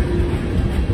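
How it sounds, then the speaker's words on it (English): A freight grain train passes on the railroad near a snow shed on Donner Pass, making a steady, heavy, low rumble with faint rail clatter, close and continuous. "But we got this grain train."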